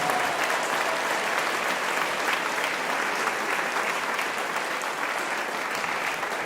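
Sustained, full applause from a school concert audience honoring band students, dense and continuous at close range for several seconds.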